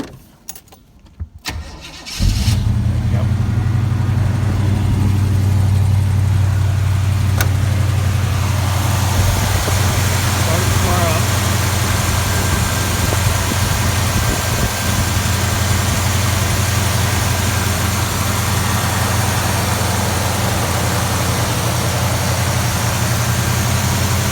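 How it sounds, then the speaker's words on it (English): Car engine cranks and starts after a few seconds of quiet handling, then runs loud and close at a steady idle with a light blip of gas, and no talk. "Give it a little gas here."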